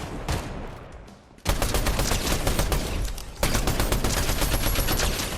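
A burst and explosive boom from a shockwave grenade in Fortnite Zero Build erupt amid dense, continuous gunfire, with a second loud onset midway as shooting keeps rattling close by.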